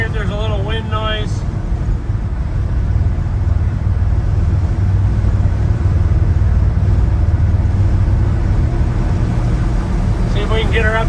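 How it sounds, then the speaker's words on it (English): A 1970 Ford F100 truck cruises on the highway, its engine a steady low drone under constant road and wind roar, with brief voices at the start and end. "Alright, we're back on the highway."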